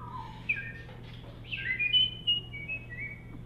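A competitor whistles at a whistling convention, producing short bright melodic phrases of rising and falling notes over a low steady hum.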